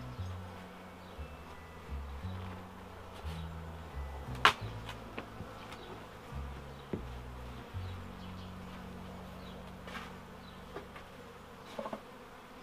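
Honeybees buzz around a beehive being inspected, a close, fluctuating drone of several bees with wingbeat tones rising and falling as they pass, plus a few faint knocks, with no talking.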